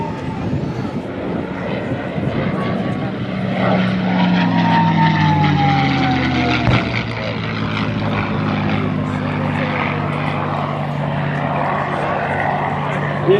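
A P-51 Mustang propeller fighter flies past at the 2024 First State Airshow. Its engine rumble is loud and sustained, and the pitch sweeps down as the plane passes, under a faint crowd murmur.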